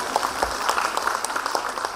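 A women's day event audience gives a brief burst of scattered clapping, a dense patter of hand claps for a couple of seconds at moderate distance.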